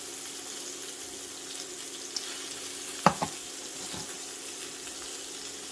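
Steak sizzles steadily in a cast iron pan as melted butter is spooned over it, with a few sharp metallic spoon clinks partway through and no voices.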